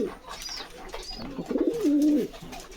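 Racing pigeons, including a grizzle racer pair, coo from close by: a couple of faint calls early, then a louder, drawn-out rolling coo near the end.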